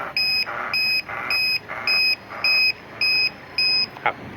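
A TEXNO alarm remote paired with a Yamaha Lexi 125 motorcycle beeps in a steady series of seven evenly spaced, shrill electronic tones, loud and close, followed by a brief click at the end.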